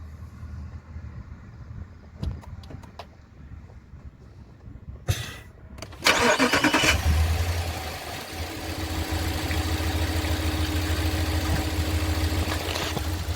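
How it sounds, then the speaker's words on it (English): A 2019 RAM 1500 with the 5.7 Hemi V8 does a warm start: a few clicks and shuffling, then a loud crank-and-catch burst about midway, settling into a steady, close low idle rumble. "we're gonna do a quick startup. It is gonna be a warm start"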